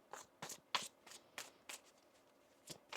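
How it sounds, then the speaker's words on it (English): Tarot cards being shuffled by hand in a series of short, crisp riffling bursts, roughly eight quick rustles spaced unevenly, close and fairly quiet, with no voice. "One more shuffle."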